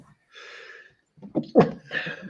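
One short sneeze bursts out close to the microphone, a brief sharp blast set among faint breathy vocal sounds.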